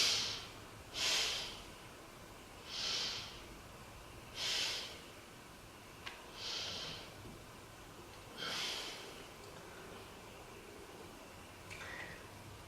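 Deep breaths during a yoga pose sound close and soft, six or seven slow, evenly spaced exhalations, each a breathy rush that swells and fades, separated by quiet pauses.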